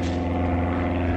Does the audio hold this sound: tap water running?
no